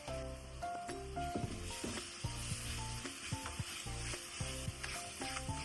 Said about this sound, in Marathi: मसाला छान परतून घ्यायचा.